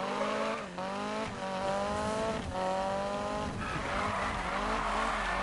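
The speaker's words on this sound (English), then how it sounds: "And that's how you gear shift really quick in drag racing." Drag racing car launching in the Need for Speed video game, a loud engine revving high, then dropping and climbing again through several quick gear shifts in succession, with tire noise underneath and no talk.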